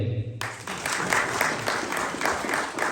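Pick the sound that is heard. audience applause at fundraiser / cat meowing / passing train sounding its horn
audience applause at fundraiser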